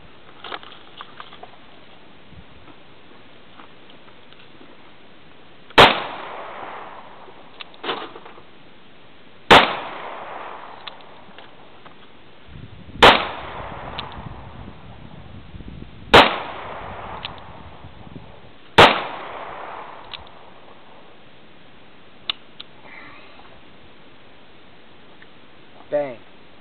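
Five sharp gunshots crack out at spaced intervals of a few seconds, each loud and close with a short echoing tail, and a person talks between them.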